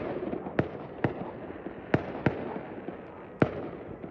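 New Year's Eve fireworks burst near a house by a reserve in West Kelowna, five sharp, separate booms spaced over a few seconds above a steady background rumble, with no voices.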